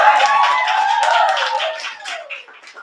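A small open mic audience applauds a performer, the clapping steady and close for two seconds before thinning out and fading as the room settles.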